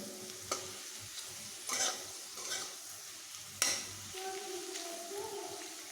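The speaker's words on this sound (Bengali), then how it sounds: "আলুগুলোকে আমি একটু লাল লাল করেই ভেজে নিচ্ছি" Potato pieces fry in oil until reddish, a soft continuous sizzle broken by a few sharp spatula clinks and stirring scrapes against the pan, fairly quiet and close.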